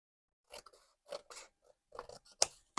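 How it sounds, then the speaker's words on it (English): Scissors trimming the sides of a paper page, several crisp snips in short bursts, close and quiet, with no talking. "let me trim a little bit off the sides"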